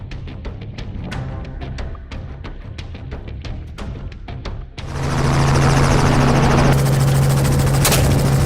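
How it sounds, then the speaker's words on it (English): A twin-engine helicopter close overhead over Texas farmland, rapid rotor thumps chopping rhythmically, then swelling into a loud, steady engine roar with a whining tone. "Twin-engine helicopters were mobilized, carrying professional shooters, flying over the Texas sky."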